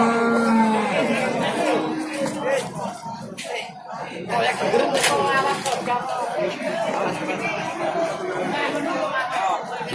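Cattle at a livestock market in Tuban, East Java, low and drawn out, with one clear moo near the start, set among steady crowd chatter and people talking close by.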